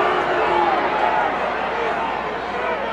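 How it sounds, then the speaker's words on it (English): A college football stadium crowd at a Montana State versus Sam Houston game roars loudly and continuously after a play stopped an inch short, a dense distant wash of cheering that stays broad and steady. "Listen to this crowd."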